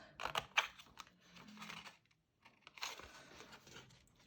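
Scissors cutting card straight across for a tealight box craft, with crisp snipping and crinkly rustling bursts in two main clusters around a brief silence, close and fairly quiet, no talking.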